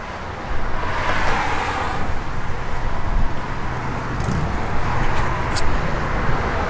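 A 1987 Chevrolet Monte Carlo SS with an aluminum-headed 355 small-block Chevy V8 idles steadily, a throaty, loping rumble held at an even level with some wind noise around it and no talk.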